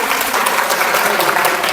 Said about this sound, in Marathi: तुमच्यासाठी टाळ्या वाजवा